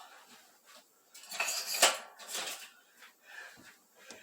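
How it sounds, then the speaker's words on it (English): A utensil clinks and scrapes against a bowl while yeast is stirred into bread dough liquid, giving irregular close taps and swishes in short bursts with quiet gaps between. "I just give that a little bit of a mix."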